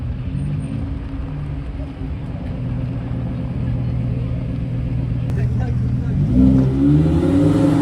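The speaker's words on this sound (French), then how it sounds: "La petite Porsche. Oh le V10," A Porsche V10 revs and accelerates on a Paris street, its engine note building louder and climbing near the end, with people talking over it.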